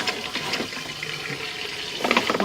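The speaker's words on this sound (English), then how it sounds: "We're just going to keep the water running for a moment right now." Water rushes steadily through a pipe, a dense, hissing flow with bubbling surges that swell near the end, loud and continuous with no talk.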